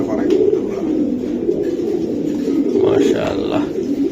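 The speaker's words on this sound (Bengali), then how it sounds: "সব বিদেশি কবুতর" Foreign racing pigeons at a market coo in soft, repeated throaty rolls close by, heard under people talking.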